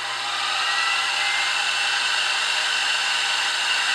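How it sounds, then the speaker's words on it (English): Steady, loud drilling into a metal part for a twin vertical wobbler steam engine column, a continuous whining grind that holds even and unbroken throughout with no pauses or voices. "This is just getting drilled"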